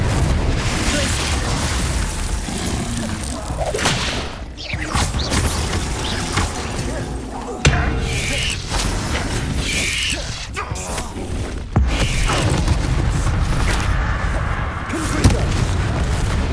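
Blasts of a Confringo explosion spell from the game Hogwarts Legacy mix with mechanical clanks, creaks and pops, dense and loud over a continuous roar of battle effects.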